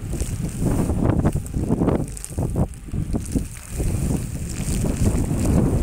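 Strong, gusty blizzard wind on the Postăvarul massif in Romania roars and buffets steadily for the whole stretch, with rumbling low-end noise rising and falling in surges.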